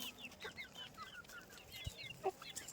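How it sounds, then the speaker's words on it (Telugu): Chickens on a family farm plot cluck softly and chirp in quick, scattered calls while feed is scattered for them, fairly faint against quiet outdoor background, with no talking. "అటు పరిగెడుతుంటే మా అక్క వెనక్కి వెళ్ళిపోతున్నాయి చూడండి కోళ్ళు."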